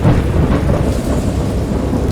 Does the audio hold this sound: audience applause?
no